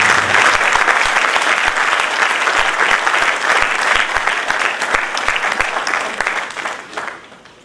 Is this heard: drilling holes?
no